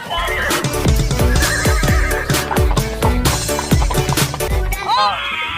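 A toy horse neighs repeatedly over a bouncy, clip-clopping electronic rhythm, loud and close, with a whinny near the end.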